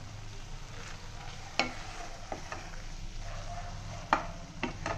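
Cheesy Maggi noodles with vegetables stirred in a pan: a soft background sizzle with a few sharp utensil taps and scrapes against the pan, close by and fairly quiet.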